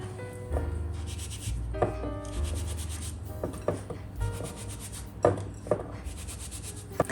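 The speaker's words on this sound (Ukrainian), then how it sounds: "Далі цей цукор з цедрою перетираємо пальцями." Fingers rub sugar together with orange zest, making a close, continuous gritty rubbing and scratching, with a few soft knocks between strokes.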